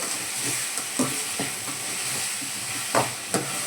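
Onion sagu vegetables salted and cooking in a pan sizzle in a steady, moderate hiss, with a few sharp clicks of stirring scattered throughout, close by and without talking.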